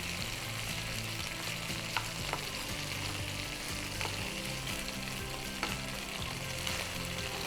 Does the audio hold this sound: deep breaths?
no